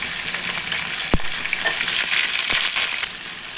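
Chopped tomato and ginger-garlic paste sizzle and fry in a pan, a close, continuous crackle broken by two sharp knocks of a spoon against the pan, with no voices.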